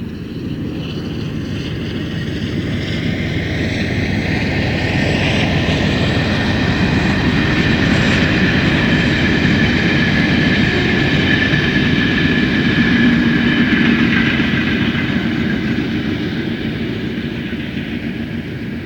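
A locomotive-hauled train passes on the North Downs line in 1998, a steady loud rumble and drone with a whining engine tone swelling and fading across nearly twenty seconds, no voices.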